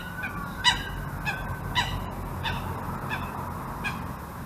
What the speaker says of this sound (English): Got a duck fight happening here